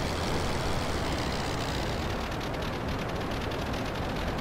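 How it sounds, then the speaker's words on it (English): A small airplane engine drones steadily in flight, a loud, continuous broadband roar with airflow rushing over the wings, unbroken and with no talk. "Just listen to the engine."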